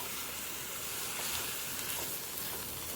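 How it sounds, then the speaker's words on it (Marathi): Roasted semolina sautés in a pan with a faint, even hiss and soft stirring scrapes, quiet and steady throughout, with no voices. "आणि आपण जो भाजलेला रवा आहे तो ह्याच्यात घालून घ्यायचा आणि तो पण आपण ह्याच्यावर एकदा परतून घेऊया"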